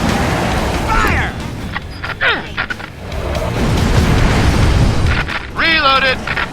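Booming explosions and gunfire from the video game Brutal Legend, loud and close, arriving in several bursts amid whooshing effects, with a voice shouting over parts of the action.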